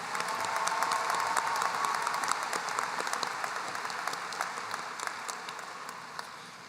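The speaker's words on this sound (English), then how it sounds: "Let's have one more round of applause for these outstanding students." Graduation audience at a 2023 high school commencement applauds outstanding students, a dense sustained round of clapping that holds steady and slowly tapers toward the end.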